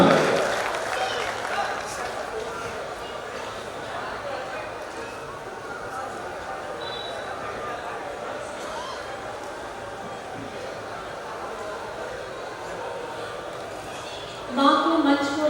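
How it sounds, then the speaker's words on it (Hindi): Audience applause at a Hindi comic poetry gathering, a long steady wash of clapping from a large crowd, fairly soft and even throughout, with a louder burst of voice near the end. "मैं चाहता हूं पूरा सदन एक बार जोरदार तालियों से बुलाइएगा"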